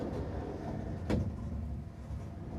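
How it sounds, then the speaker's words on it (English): A sliding pocket door in the bathroom of a horse trailer's living quarters makes a single short rolling slide near the middle, heard close against a steady low background hum. "we have a sliding pocket door right here"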